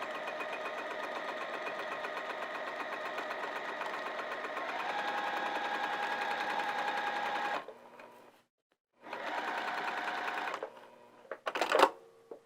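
Sewing machine basting around the outer edge of a heart-shaped potholder, a steady rapid mechanical whir running for several seconds, slightly faster midway, then stopping, briefly resuming, and ending with short bursts.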